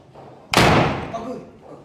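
A new door slams shut once, a loud, close, sharp bang that rings and fades over about a second.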